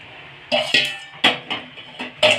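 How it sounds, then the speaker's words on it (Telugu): A spoon scrapes and knocks against a pan as fried okra pieces are stirred into masala, about six distinct clinking strokes at an uneven pace, close and clear. "ఇప్పుడు ఈ బెండకాయ ముక్కలు వేయించుకునే మనం ఇందులో ఈ మసాలాలో వేసుకొని ఒకసారి మళ్ళీ మనం అంతా కలుపుకోవాలండి"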